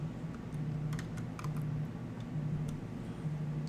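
Typing on a computer keyboard during a Linux lesson, scattered light key clicks in short bursts over a steady background hum, no talking.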